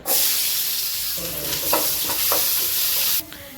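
Ginger pieces fry in hot oil for an inji kuzhambu ginger gravy, a steady close sizzle with some stirring scrapes midway before the sizzle drops off near the end.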